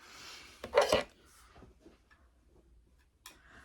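Small plastic makeup palette being fumbled with while trying to open it: a sharp clattering rattle near the start, then faint scrapes and taps, with a brief click near the end, close and quiet.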